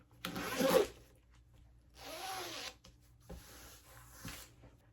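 A zipper is pulled in three separate bursts, each a raspy, close-up zip separated by brief pauses.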